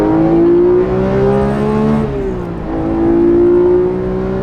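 A Porsche GT3 Touring engine holds high revs with a loud, strained, tonal wail, dipping briefly in pitch midway before climbing and sustaining again, close and continuous.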